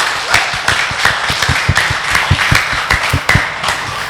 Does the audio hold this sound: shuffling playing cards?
no